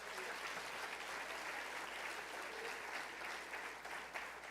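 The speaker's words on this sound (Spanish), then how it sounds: "¿Quién puede dar un aplauso al Señor por esto?" A church congregation applauds steadily throughout, a dense, even wash of many hands clapping at moderate distance, with no talking.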